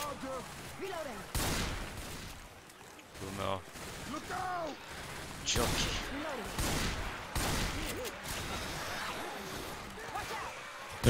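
Gunfire in the game Left 4 Dead 2, with repeated bursts and single shots at a moderate level and mechanical clicks, while voices talk over and between the shots.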